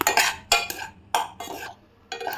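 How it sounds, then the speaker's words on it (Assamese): Rice flour dry-roasts in a pan on low heat as a utensil scrapes and stirs it in five quick, gritty strokes, close and fairly loud, with no talking. "এতিয়া মই কম জুইত দি পিঠাগুড়িখিনি প্ৰথম এনেকৈ ভাজি ল'ম।"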